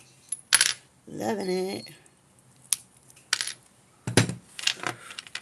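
Scored glass breaks along cut lines during glass cutting, giving several sharp, bright pops and clicks spread across the clip, close up, with a brief spoken remark between them.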